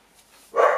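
A dog gives a single short bark at mid distance after a near-silent lull, loud and sudden against the quiet room.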